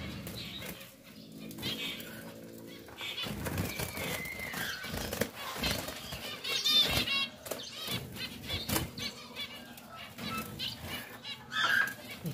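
A zebra finch flaps its wings in repeated frantic bursts while being caught inside a cage, close and fairly loud, with rustling, knocks against the cage and a few chirps.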